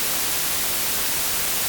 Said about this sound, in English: There's also white noise,